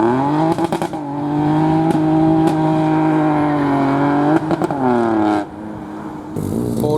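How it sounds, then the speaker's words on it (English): A Ford Racing Puma with a loud Mark 8 exhaust revs hard and launches at an outdoor Ford enthusiast event, its engine note rising through gears with crackles between shifts, close and very loud, with no talking. "Got a Puma with a very bright Mark 8, making loads of noise."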